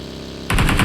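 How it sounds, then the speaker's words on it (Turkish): Gunfire in PUBG Mobile: after half a second of quiet game ambience, a loud rapid burst of automatic weapon fire with evenly spaced shots. "Tamam silah sesi var duydum."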